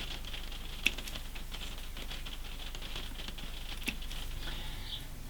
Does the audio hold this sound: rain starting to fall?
yes